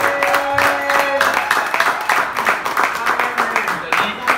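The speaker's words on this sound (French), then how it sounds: "Applaudissons." A church congregation claps together during a testimony and choir service, a dense, steady round of applause with a held tone and voices faintly underneath.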